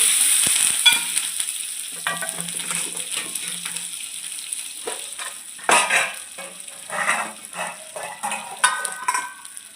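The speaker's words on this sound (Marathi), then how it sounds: "मोहरी टाकून घ्यायचं थोडंसं एकदम थोडंसं जिरं टाकून घ्यायचं आता ही मिरची चिरलेली आहे बघा टाकून" Mustard seeds, cumin and chopped green chili crackle and sizzle in hot oil, loud at first and then bursting in sharp spurts as the pan is stirred, with metal utensil clinks and no talking.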